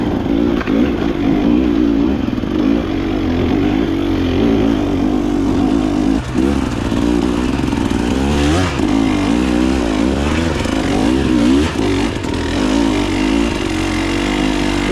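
A KTM motorcycle engine drones loud and close throughout an off-road ride, its revs rising and falling unevenly with no let-up for the whole stretch.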